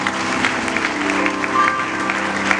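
Church congregation applauding during a French-language sermon, a steady wash of clapping from many hands that holds at an even level for a few seconds, with faint voices mixed in.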